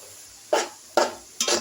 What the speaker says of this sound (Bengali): দেখুন, আমি নেড়ে চেড়ে দিচ্ছি।